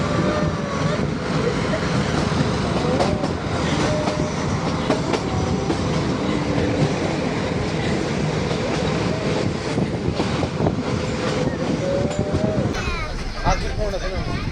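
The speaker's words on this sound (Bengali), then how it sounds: "তারপরে আবার ট্রেন উটির পথে রওনা দিয়ে দিয়েছে" The Ooty toy train rolls between Coonoor and Udagamandalam with continuous rumbling, wheel clatter and squeals on the mountain track, heard from on board with people talking quietly over the steady noise.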